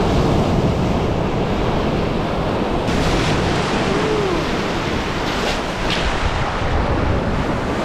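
Waves on a Lake Superior beach roll in as a constant loud wash of surf, mixed with heavy wind buffeting the microphone, with no voices.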